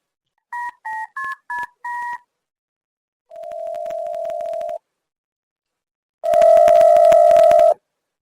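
A telephone call is dialed: five quick keypad tones in a row, then a sustained steady tone, a pause, and a louder buzzing ring tone, all clear and close with no talking.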